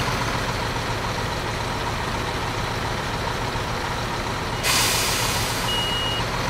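A truck backs up at a skip-moving job, its engine running steadily while a loud, regular reversing beep starts near the end, close by and clearly audible over the engine.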